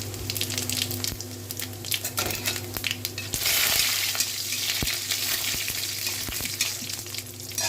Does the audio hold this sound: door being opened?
no